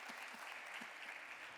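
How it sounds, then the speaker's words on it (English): Applause from a conference audience at a cybersecurity forum panel: steady, dense clapping from a large crowd, moderately loud and continuous throughout. "thank you for that round of applause. I think we need a second one for the all-female panel"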